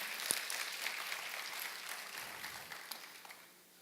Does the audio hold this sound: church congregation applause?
yes